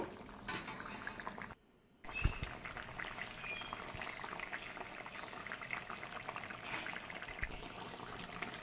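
Fish curry with fried fish added, simmering in a pot, a faint steady bubbling with a brief clink near the start and a short gap, no talking.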